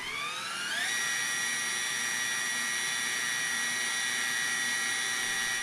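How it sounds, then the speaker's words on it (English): A Sony EV-S9000E 8mm video deck rewinding at high speed: a whirring motor winds up in pitch over the first second, then holds a steady, close, high whine without voices. "making them some of the very few 8mm decks which can rewind with the tape unlaced"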